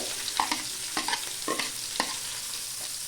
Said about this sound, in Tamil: கடுகு, கொஞ்சமாக சீரகம், 2 பொரியட்டும்.